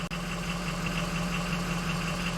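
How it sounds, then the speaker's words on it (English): A Ford E450 van's 6.0L engine idles with a steady, even rumble and slight knocking texture, loud and close with no voices. "I'm gonna let the vehicle idle for a couple minutes"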